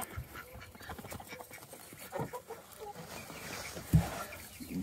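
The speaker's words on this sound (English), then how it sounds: "Good morning, chickens." Chickens clucking and softly squawking at a distance amid rustling farmyard noise, with one short louder call near the end.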